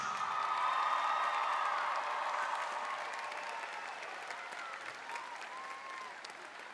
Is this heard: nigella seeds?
no